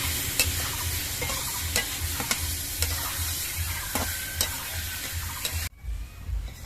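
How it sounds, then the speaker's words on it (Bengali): Salted prawns stirred and sautéed with spices in a pan for a Bengali doi chingri dish, a steady close sizzle with repeated spatula scrapes and clicks, ending in a brief quieter tail. "এবার এর মধ্যে আমি নুন মাখানো চিংড়ি মাছগুলো দিয়ে দিচ্ছি চিংড়ি মাছ দিয়ে নেড়ে ফেড়ে আবার কিছুক্ষণ কষিয়ে নিতে হবে"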